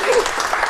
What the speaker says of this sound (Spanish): un aplauso, ¿no? A María.